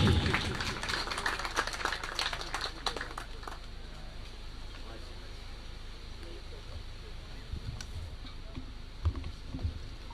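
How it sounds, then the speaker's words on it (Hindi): An audience at a memorial anniversary ceremony gives a guest a welcoming round of applause. The dense clapping is loudest at the start, then thins out and fades as a voice begins speaking. "आप शहनशान तालियों से अपने मेहमान का इस्तकबाल कीजिए।"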